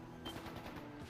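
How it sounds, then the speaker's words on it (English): Rapid gunfire in the video game The Legend of Heroes: Trails into Reverie, set in a Crossbell factory, a quick burst of repeated shots at moderate, fairly distant level. "Gunfire. What's going on?"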